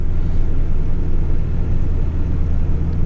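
A 1980 Corvette engine with a dead miss idles nearby, giving a loud, continuous low rumble with an uneven, lumpy pulse.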